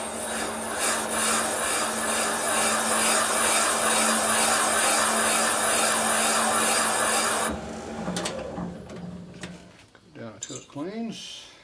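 A valve seat being recut by hand on a 1974 Harley-Davidson 74ci shovelhead cylinder head, a steady close rasping scrape for about seven seconds, then scattered lighter scraping and tool handling with brief squeaks.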